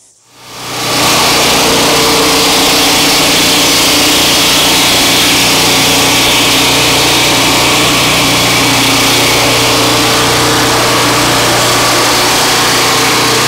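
A Turbosawmill with a small petrol engine runs at full throttle while making a skim pass along a log, a loud, steady, high-pitched engine roar that holds throughout after a quick start.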